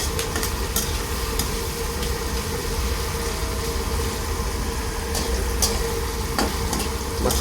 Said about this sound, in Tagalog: Pag itong kamatis medyo luto na, ating ilalagay ang karne guys.